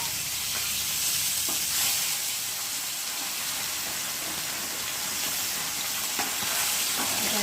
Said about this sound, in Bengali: তেলাপিয়া মাছ জ্যান্ত তো ভালো করে কেটে নুন হলুদ মাখিয়ে আর এখন ভেজে নিচ্ছি